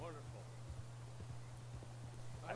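Horse hooves clip-clop steadily at a walking pace in Red Dead Online, soft and regular beneath a constant low hum, and a voice is briefly heard.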